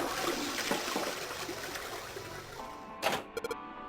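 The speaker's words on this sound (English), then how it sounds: "I heard a loud flushing noise." A toilet flushes in the video game Zero Escape: Nine Hours, Nine Persons, Nine Doors, a loud, steady rush of water that runs for about three seconds and then cuts off, followed by a few brief soft clicks.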